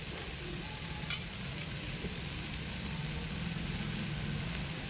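A tomato and moong dal mixture being stirred in a pan, a faint steady sizzle with soft scraping of the spoon and one brief clink early on, close but quiet throughout.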